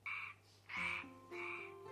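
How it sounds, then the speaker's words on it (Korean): A tree frog croaks in three raspy, buzzing bursts, close and moderately loud, in an animated fairy tale with a faint tone underneath and no talking. "청개구리."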